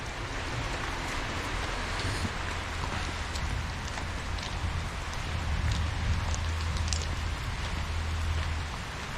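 Heavy rain drums on a tin roof beside a pond in a dense, loud, unbroken patter that swells slightly partway through, with no voices.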